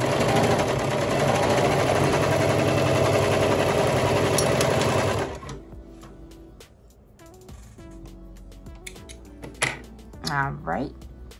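A serger overlocker sewing kids' shorts runs loudly and steadily for about five seconds, then stops, leaving quieter handling clicks and a brief voice near the end.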